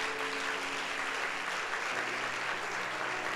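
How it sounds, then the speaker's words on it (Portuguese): A church congregation at a Sunday service applauds, giving a steady, even wash of many hands clapping, heard somewhat distant and soft throughout. "Então dê uma salva de palmas a Jesus."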